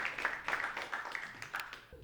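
An audience at a sales training session applauds, a fairly close burst of many hands clapping that thins out after about two seconds.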